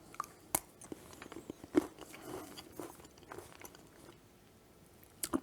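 A chocolate bar filled with bacon and potato chips is bitten and chewed, giving a few sharp crunches and snaps followed by quieter crackling chews, close and fairly soft, with no talking.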